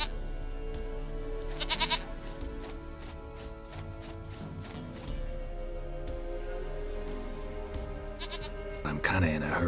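Goat bleats in The Witcher 3 game, a couple of short bleats rising over a steady bed of game music and ambience, with voices talking around them.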